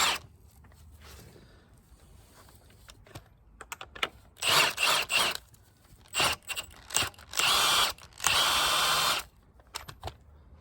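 A Milwaukee M18 FUEL power tool tightens a bolt in several short bursts of loud whirring between quieter handling clicks and rattles, close up, with no talk.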